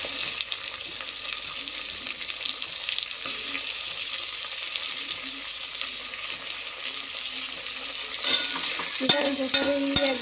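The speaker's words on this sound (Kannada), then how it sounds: "ಇದನ್ನು ಸರಿಯಾಗಿ ಫ್ರೈ ಮಾಡಬೇಕು. ಫ್ರೈ ಮಾಡ್ತಾನೆ ಇರಬೇಕು ಇದನ್ನು" Tomatoes sizzle steadily in hot oil in a pan for a chicken gravy, with a dense continuous crackle, occasional scraping stirs, and louder clattering utensil strokes near the end.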